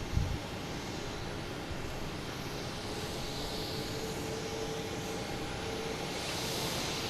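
A Boeing 747 airliner taxiing at Boston Logan International Airport gives a steady, broad jet engine roar with a faint whine, holding at a constant distance from start to finish with no talk over it.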